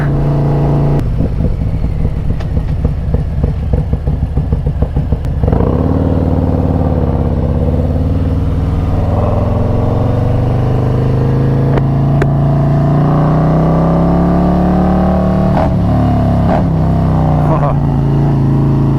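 A Harley-Davidson Road Glide motorcycle engine loud and close, a rapid lumpy idle giving way to deep revving that rises and falls in long sweeps.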